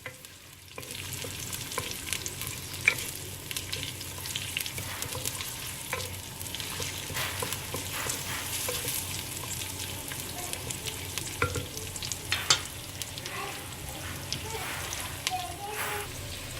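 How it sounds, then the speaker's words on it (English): Onions sautéing in a pan for crab rasam, a soft continuous sizzle with repeated scraping and clinking as they are stirred, fairly faint and close. "Saute the onions till it becomes transparent or translucent"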